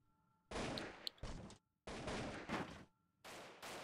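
Airship guns firing in a flying game, heard as three loud sustained bursts of rapid fire separated by short gaps, with a few sharper single shots mixed in near the start.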